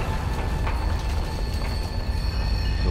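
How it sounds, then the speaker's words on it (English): A train rumbles past in the video game Zombie Army 4, a loud, steady low roar with faint high squealing tones sustained throughout and no talking. "Well, there went our train."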